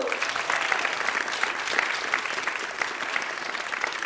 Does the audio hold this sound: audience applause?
yes